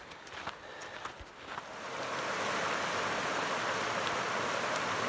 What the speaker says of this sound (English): First little waterfall of the day, or a creek.